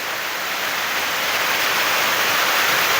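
Storm runoff water flows steadily after heavy rain, a constant broadband rushing that holds at an even, fairly loud level throughout, with no voices.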